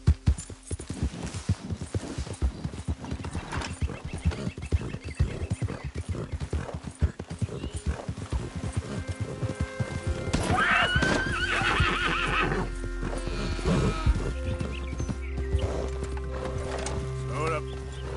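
A horse in Red Dead Redemption 2 gallops with steady, rapid clip-clop hoofbeats, then lets out a loud whinny partway through as the pounding grows fuller, with a voice heard at moments.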